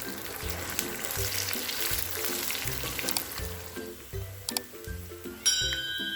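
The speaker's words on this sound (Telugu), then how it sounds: "ఈ వెల్లుల్లి రెబ్బలు అనేవి లైట్గా ఫ్రై అయితేనే బాగుంటాయండి" Crushed garlic cloves, dried red chilies and green chilies frying in oil for a tempering, a steady crackling sizzle with rhythmic stirring scrapes and occasional metal clinks.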